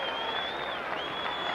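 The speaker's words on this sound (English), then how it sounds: "That gets the crowd going" A boxing crowd at the Felix Machado vs Luis Alberto Perez bout claps and cheers after a right hand by Perez, a steady wash of applause with a high whistle cutting through.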